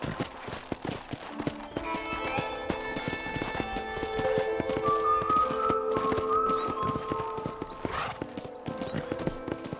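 Horse hooves clip-clop steadily in the Western video game Red Dead Redemption, a fast rhythmic patter running the whole time under tonal game music, with a brief whinny-like sound near the end.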